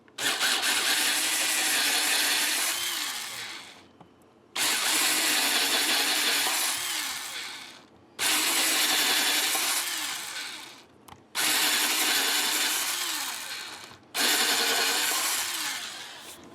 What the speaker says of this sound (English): Now I'm also using a drill that doesn't go real fast.